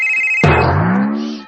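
A cellphone rings loudly and close, a short tonal ringtone melody playing alone in a domestic drama scene.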